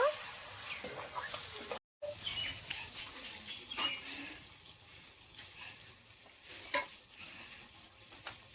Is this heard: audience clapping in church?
no